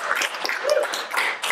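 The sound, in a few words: audience applause at a spoken word night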